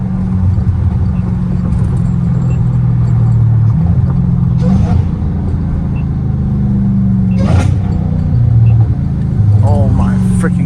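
Straight-piped Dodge Hellcat Redeye engine droning steadily at highway speed, with a few short revving blips from downshifts standing out above the low, constant rumble; someone talks over it at times.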